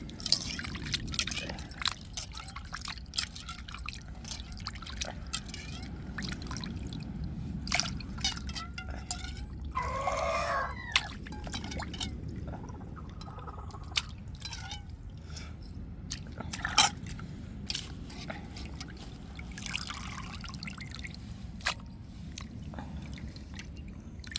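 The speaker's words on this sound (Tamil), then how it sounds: "இப்போ ராலை நல்லா அலசி எடுத்துக்கிட்டு" Prawns rinsed by hand in a bowl of water, with soft sloshing, squishing and dripping close by, steady and fairly quiet, broken by occasional clinks and light knocks.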